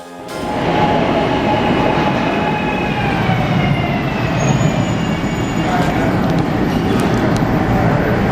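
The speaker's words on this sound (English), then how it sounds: "The Market Frankfurt train." A Market-Frankfort subway train in Philadelphia rumbles loudly and continuously nearby, with faint metallic squeals from the wheels rising above the steady roar.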